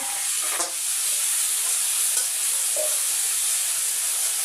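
Spices fry together in a pan, with green chillies, chilli powder, turmeric and salt added, giving a steady, close sizzle with a few brief stirring scrapes.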